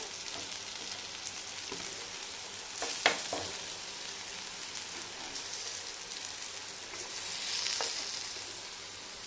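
Brinjal slices coated in rava fry in oil on a tava: a continuous crackling sizzle like light rain runs throughout, with a few sharper pops and clatters near the middle and a swelling hiss toward the end.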